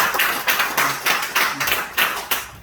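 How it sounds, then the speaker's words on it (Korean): A church congregation applauds the cooks at a Wednesday service, with a brief round of irregular hand claps, fairly close and loud, that tapers off after a few seconds. No one speaks over it. "박수 한번 드리겠습니다"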